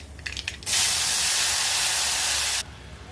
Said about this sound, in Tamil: எண்ணெய் சூடானதுக்கப்புறம் இதில் கடுகு சேர்த்துக்கிறேன்